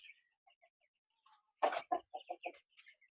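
Several hens and roosters in a pen clucking in a short cluster of close, loud calls after softer scattered chirps, no talk.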